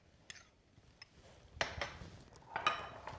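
Butter and cheese are stirred into mushroom risotto in a pan, giving faint, close scrapes and soft clinks of a utensil against the pan, scattered and irregular, with a few louder strokes toward the end.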